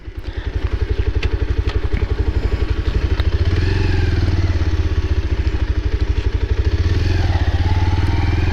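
A Bajaj Pulsar N125 motorcycle engine thrums steadily and loudly while riding, its rapid pulsing exhaust note holding constant with a brief rev early on.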